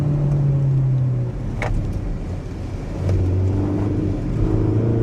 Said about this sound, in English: Let's go test how this car handles.